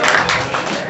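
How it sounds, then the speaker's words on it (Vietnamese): A studio audience at a televised talent show claps for a contestant, a brief, dense burst of applause filling the whole moment. "Có một tràng pháo tay cho bạn Đức Chí các bạn ơi"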